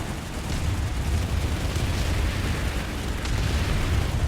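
Online shooter game battle in Planetside 2, where a Sunder armored vehicle is blown up by mines: a continuous loud roar of explosions and rumbling blasts, dense and sustained without pause, with no talking.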